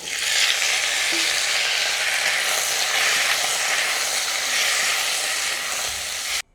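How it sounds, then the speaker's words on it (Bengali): Potatoes frying in mustard oil with bay leaves, a dried red chilli and five-spice tempering, giving a loud, steady close sizzle that runs unbroken for several seconds and cuts off abruptly at the end. "দিয়ে দেবো আলু।"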